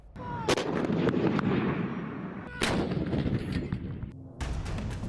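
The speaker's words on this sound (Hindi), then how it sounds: "इस लाइव फायर ड्रिल में चीनी तोप, टैंक और मिसाइलों का इस्तेमाल किया जा रहा है।" Heavy artillery fire from Chinese guns, tanks and missile launchers during a live-fire military drill, with several loud booming blasts and rumbling echoes following one another over about five seconds.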